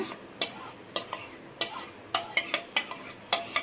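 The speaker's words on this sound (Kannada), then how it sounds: "ಈ ರೀತಿ ಎಲ್ಲ ಸೇರಿಸ್ಕೊಂಡು ಚೆನ್ನಾಗಿ ಮಿಕ್ಸ್ ಮಾಡ್ಕೊಳ್ಳೋಣ" A spoon stirs mango puree into a thickened custard milk mixture for mango sharbat, giving repeated scraping and clinking strokes against the pot in an uneven rhythm, close and moderately loud, with no talking.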